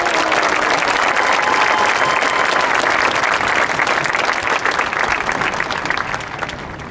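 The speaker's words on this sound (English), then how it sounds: "Let's give the class of 2019 another big round of applause." Big, loud round of applause for the graduating class of 2019 at a high school graduation, a dense crowd of clapping sustained for several seconds before easing slightly at the end.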